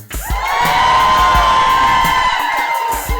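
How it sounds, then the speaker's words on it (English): A live conference audience in San Diego cheers, whoops and yells loudly, the sustained roar of voices filling the hall before fading slightly. "You all in the crowd, make some noise so the folks at home can hear you"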